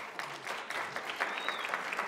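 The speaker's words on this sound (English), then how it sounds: "Round of applause" A brief round of applause from the audience at a university debate, a steady patter of clapping hands at moderate volume with no talking over it.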